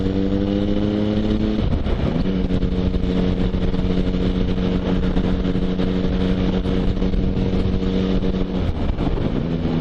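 Loud motorcycle engine droning steadily while overtaking after a roundabout, pitch dipping briefly as gears change, then holding a strong even rev with wind rush throughout.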